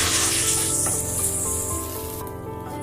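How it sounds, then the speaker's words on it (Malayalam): Dried prawns frying in a hot pan for a Kerala-style curry give a dense, steady sizzle that fades somewhat toward the end, with light stirring scrapes and no voices. "ഇങ്ങനെ ചെമ്മീൻ നന്നായിട്ടൊന്ന് വറുത്തെടുക്കുമ്പോൾ"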